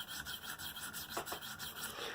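A knife blade rasps against a 300 grit stone on a KME guided sharpener, with soft, steady rhythmic strokes close by and no voices.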